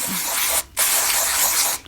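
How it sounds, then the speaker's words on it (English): Aerosol spray of Big Guns degreaser onto bicycle parts during a bike restoration: two long, loud, close hissing bursts separated by a brief pause, with no talking. "we'll just get the Big Guns degreaser, spray that in"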